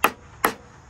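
Two sharp metallic hammer smacks, close and evenly spaced, drive a part through a go-kart frame, each strike ringing briefly before fading.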